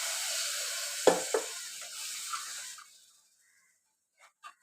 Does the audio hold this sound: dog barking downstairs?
no